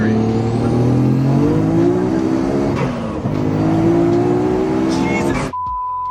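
A 1000HP Nissan Skyline accelerates hard on a test drive, its loud engine note climbing steadily, dipping briefly at a gear change, then climbing again before cutting off abruptly.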